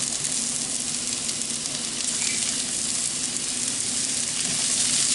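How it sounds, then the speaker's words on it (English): Mushrooms sizzle steadily in olive oil in a hot pan alongside browning acorn squash, a loud continuous frying hiss with a few faint crackles throughout, no voices. "I'm going to throw in some mushrooms"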